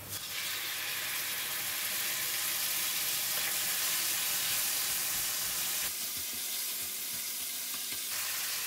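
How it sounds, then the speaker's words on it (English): Dry chili and red bean curd fry in a hot pan, a steady loud sizzle that continues unbroken and dips slightly toward the end. "Continue to fry it."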